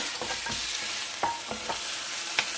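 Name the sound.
meat pieces browning in a pot for tajine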